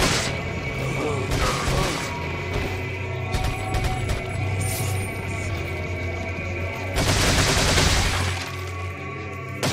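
Bursts of gunfire and crashing impacts from the video game Resident Evil 4, steady and loud over a low droning game backdrop, swelling into a heavier volley near the end.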